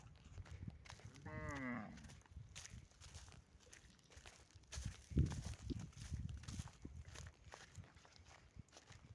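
Cattle outdoors let out a single low moo early on, fairly near, followed by quiet shuffling hoof steps and scattered faint rustling.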